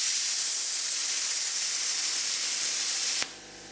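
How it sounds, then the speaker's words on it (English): A YESWELDER CT 2050 plasma cutter firing its pilot arc, fed by its built-in air compressor, makes a loud, steady airy hiss for about three seconds before it cuts off abruptly to a quieter hum. "Here's the pilot arc."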